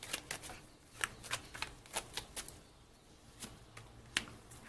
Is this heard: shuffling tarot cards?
yes